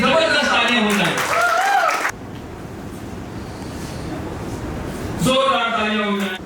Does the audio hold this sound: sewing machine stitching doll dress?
no